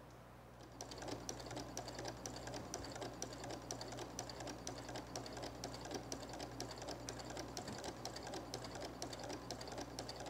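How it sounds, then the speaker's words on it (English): A sewing machine stitches a quilted fall table runner in a fast, steady rapid-fire patter after a brief quiet start, close and continuous, with no one talking. "So I'll stitch along this line here, and I'm going to come down."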